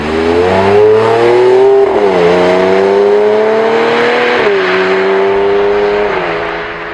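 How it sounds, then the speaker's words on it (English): A 2011 Porsche 911 GTS engine revs and roars through its dual-mode exhaust set fully open, pitch climbing through gears with brief dips between shifts, close and powerful. "Deploying the full voice of the GTS via the button for the dual mode exhaust"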